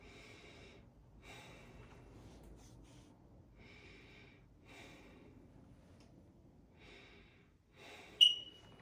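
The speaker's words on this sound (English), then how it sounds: "Go ahead, take a deep breath." A patient breathes deeply during a posterior lung exam, with several soft, airy breaths spaced a couple of seconds apart and a brief louder click near the end, faint and close.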